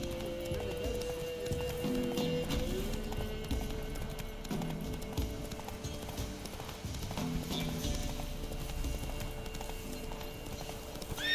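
Roach, the horse in The Witcher 3 video game, gallops with steady, rapid clip-clop hoofbeats that run the whole way through, loud and close, layered over game music and ambience.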